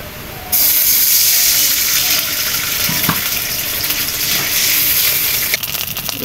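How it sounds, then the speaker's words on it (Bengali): Water poured into a hot kadai of frying chillies and onion, a sudden loud rushing hiss that holds steady for about five seconds before tapering into bubbling. "এখন দিয়ে দিব পানি।"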